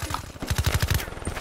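A quick burst of rapid automatic gunfire from Black Ops 3 multiplayer, about half a dozen sharp close shots in a tight rhythm lasting under a second.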